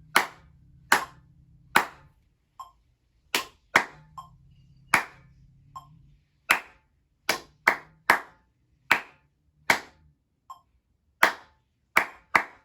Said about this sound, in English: Now, let's us clap without counting.